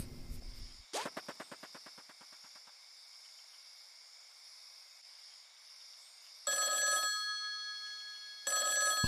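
A telephone rings in the rhythm video game Rhythm Sprout, starting with a rapid rattling trill that fades. Later come two loud electronic ringtone bursts, with no talking.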